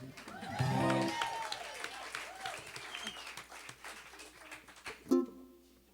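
Concert audience at a live album release show in a music hall applauding the soloists, a burst of clapping and cheering that swells early then thins into scattered claps, with a sharp louder clap near the end and some voices.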